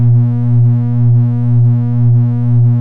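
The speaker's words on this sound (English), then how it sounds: "when I plug another oscillator into the chain, you have distortion" A loud synth tone from chained oscillators in MuX buzzes with harmonic distortion, holding steady pitch while its level swells and dips in a slow, regular pulse, with no voice.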